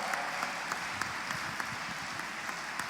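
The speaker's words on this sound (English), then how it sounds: "can we please have a round of applause for both of these guys" An audience applauds at a QPL Lucca Quake match between two players, with steady, dense clapping from a crowd throughout, no voices standing out.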